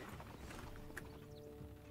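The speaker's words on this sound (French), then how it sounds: "Nos chevaux sont prêts." Cavalry horses in Stronghold: Definitive Edition clop faintly in a quiet, steady rhythm of hoofbeats, with a brief higher whinny-like sound near the middle under low game ambience.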